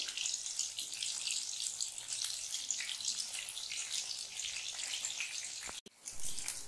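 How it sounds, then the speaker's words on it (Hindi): Soya chunk pakoras frying in oil in a kadhai give a steady, fairly quiet bubbling hiss that runs throughout, with a brief dropout near the end. "हमने सभी पकौड़े को ऐसे ही फ्राई कर लिया है।"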